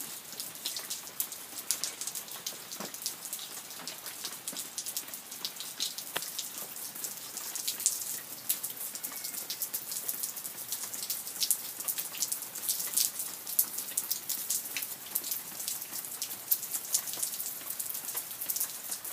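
Steady rain at Lake Hodges in California, a dense hiss of fine drops pattering continuously on surfaces throughout, soft and even with no voices.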